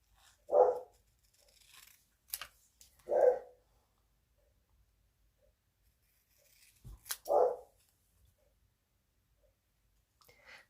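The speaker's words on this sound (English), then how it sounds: "He sure was barking, which is a good thing." A small young dog named Teddy barks in three sharp, separate bursts a few seconds apart, loud and fairly close in an otherwise quiet room, with faint clicks and snips between them.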